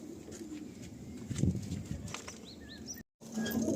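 Pigeons in a breeder's loft give soft, low coos close by over a faint ambient hum, with a few brief higher chirps near the end.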